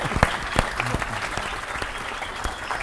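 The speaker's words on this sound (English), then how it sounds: "So give him a big round of applause." Steady applause from an audience at a classic car forum, dense clapping with a few sharper claps standing out, continuing at an even level throughout.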